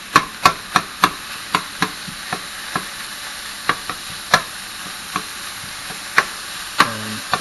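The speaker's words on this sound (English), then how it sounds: "you hear that sizzle? It means your pan's nice and hot" Ground meat sizzling in a hot pan, a steady frying hiss broken by sharp, repeated clacks of a utensil stirring and breaking it up, close and fairly loud.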